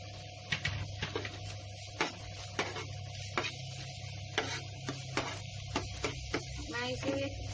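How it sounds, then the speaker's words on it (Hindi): Garlic is added to lightly browned onions frying in a pan, giving a steady close sizzle over a low hum, broken by regular sharp stirring clicks against the pan. "अभी ये जो लहसुन है उसे मैं दे रही हूँ।"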